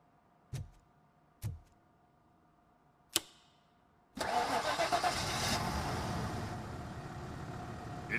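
A car engine in RoboCop: Rogue City cranks and catches after its disconnected coil is repaired. Three sharp clicks come first, then the engine bursts into a loud, steady running roar.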